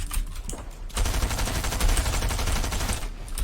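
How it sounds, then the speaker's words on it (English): Rapid automatic gunfire in a video game, dense bursts of loud repeated shots that cut in after a short lull and then continue steadily to the end, with a brief quieter break near the close. "Who is shooting me?"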